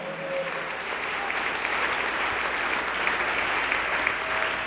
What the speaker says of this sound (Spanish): Dele esas palmas al Señor con todo su corazón.